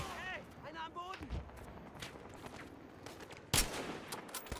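Gunfire in a Battlefield Hardline multiplayer match, scattered distant shots with one sharp loud report near the end, heard under someone speaking German.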